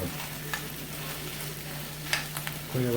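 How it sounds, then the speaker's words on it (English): Bacon frying on a stove, spitting and splattering with a steady close sizzle broken by a few sharper pops, while a low hum runs underneath. "cooking with bacon though, you get bacon splatter everywhere"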